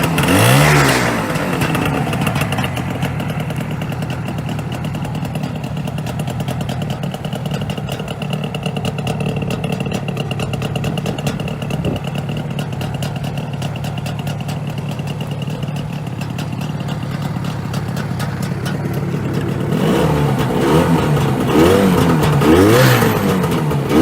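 A 1950s Ariel Leader, a fully enclosed motorcycle, runs steadily with a continuous mid-pitched engine hum, swelling louder near the end as it revs up.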